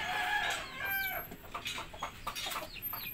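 A Mahogany Rhode Island Red hen about to lay an egg clucks and calls in quick, rising bursts, fairly close and moderately loud, with no talk over it.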